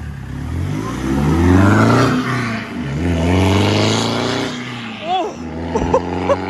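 A Land Rover Defender 90 with a stage 2 decat exhaust revs hard and loud close by, a deep sustained roar that rises and falls, then sharper blips near the end.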